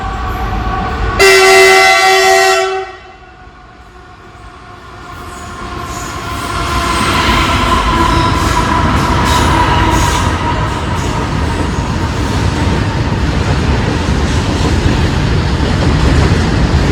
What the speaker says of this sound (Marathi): आता लोणंद स्टेशनमधली रेल्वे आली आहे मित्रांनो.